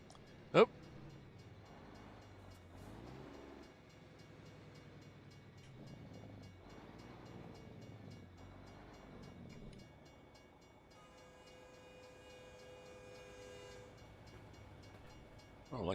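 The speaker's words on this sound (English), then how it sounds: "looked like a CN train" A CN freight train passes in American Truck Simulator, a steady low rumble of rolling wagons with a sustained horn tone near the end, heard from the cab under soft ambient game sound.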